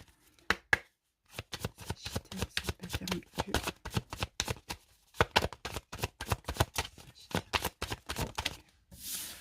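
Tarot cards being shuffled by hand, close up, in quick bursts of riffling flutters separated by short pauses, steady and rhythmic throughout.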